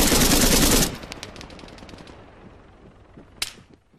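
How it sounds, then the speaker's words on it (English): Gunfire from the video game Arma 3, aimed at a helicopter: a dense, loud automatic burst up front, then fading echoes and a single sharp shot near the end. "Saw that heli, had to take a few shots, even though it's lagging."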